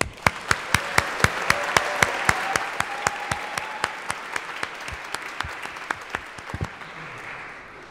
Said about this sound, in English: A round of applause for the SMS faculty and students.